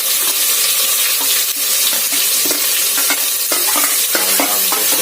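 Loud, dense sizzling of chilli, ginger and onion frying for dhaba-style moong dal tadka, with constant close stirring and scraping across the pan throughout.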